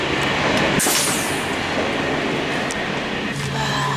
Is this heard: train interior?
yes